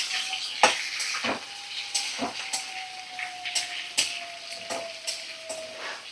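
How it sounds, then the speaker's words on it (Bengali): A small, finely chopped onion fries in oil on a medium flame for a fish curry, a soft steady sizzle broken by repeated scraping strokes of a stirring spoon, with a faint thin whistle running underneath. "মিডিয়াম ফ্লেমে রেখে 3-4 মিনিট ভালো করে ভাজা করে নিচ্ছি।"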